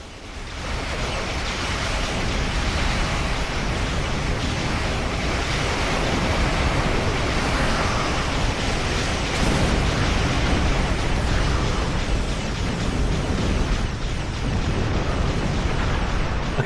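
Starship weapons and explosions in the game Star Trek Online: a dense, unbroken roar of blasts and rumbling that stays loud and even throughout, with no speech.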